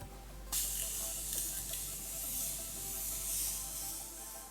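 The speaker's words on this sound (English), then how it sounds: "So I'm going to go in with my Morphe Continuous Setting Spray." A close, sustained hiss of Morphe Continuous Setting Spray mist bursts on suddenly and keeps going for several seconds, soft and airy, with no voices.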